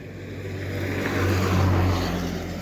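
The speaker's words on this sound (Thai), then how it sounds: "ก็ขี่รถไถนี่แหละมา" A Thai walking tractor's engine runs steadily nearby, a continuous low droning hum with a faint rise in the middle, no talk heard.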